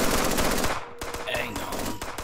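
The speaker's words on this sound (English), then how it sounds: "We'll provide suppressing fire." Rapid automatic gunfire rattles loudly in a shooter video game, a dense burst of suppressing fire that cuts off and is followed by scattered shots and game sounds, with voices underneath.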